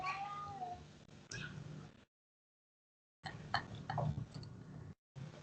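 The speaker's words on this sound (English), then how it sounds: "I hear Kitty singing" A cat meows nearby in drawn-out, wavering cries, with brief silent gaps between the calls.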